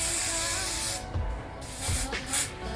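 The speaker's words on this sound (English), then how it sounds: "So I'm gonna go ahead and spray the hairline again." Close hissing of hairspray sprayed along the hairline of a lace wig, a steady spray followed by a couple of shorter bursts.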